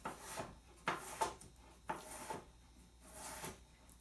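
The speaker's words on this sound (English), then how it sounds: "here's my potato, and I'm going to slice that up" A knife cutting through a peeled raw potato on a board, giving roughly five separate soft chopping thuds with a faint scrape, spaced about a second apart, close by and quiet, with no voices.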